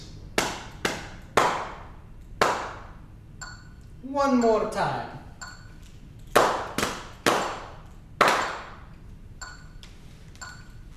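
Hands clap a rhythm of two eighth notes, a quarter note and a half note in an indoor music lesson, sharp close claps in two groups, with a short spoken phrase between them.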